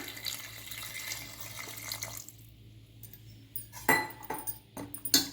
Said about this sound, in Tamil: இப்போ கொஞ்சமாக தண்ணி சேர்த்துக்கலாம்.